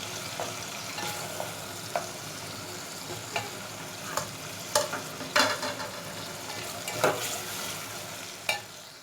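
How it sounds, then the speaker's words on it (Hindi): Tomatoes cooking in ghee for a dhaba-style fried dal, stirred steadily with a spoon: a continuous soft sizzle with repeated scraping clicks and taps of the spoon against the pan, close and moderately loud, no voices. "5 मिनट तक मैं इसे चम्मच चलाती रहूँगी, ये पूरी गल जाएगा।"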